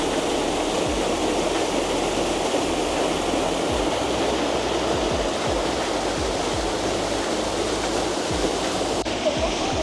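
A small waterfall in Luxembourg pours nearby in a loud, continuous rush with a low, rumbling churn.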